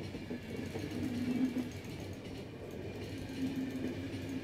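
Train rumbling along in The Final Station video game, a steady low mechanical drone with a repeating rhythmic hum, moderately loud and continuous with no speech.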